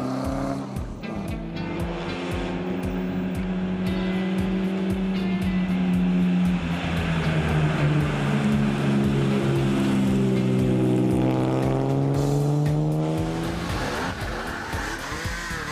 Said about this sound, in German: Und so nimmt das Feld der Oldtimer-reisenden Fahrer endlich die einladenden Inselstraßen unter die Räder.